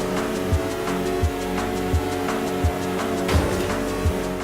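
Arcade racing car drifting in the Xbox One game Wheelspin Frenzy, a steady engine drone with squealing tyres and rhythmic low thumps, loud and continuous without talk.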